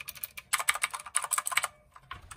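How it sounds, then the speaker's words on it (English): Rapid bursts of crisp, clicky keystrokes on a 60% mechanical keyboard fitted with blue switches, typed in short runs with brief pauses, close and fairly quiet, with no talking. "Blue switches, and I'm going to show you the blue switches, as you can see."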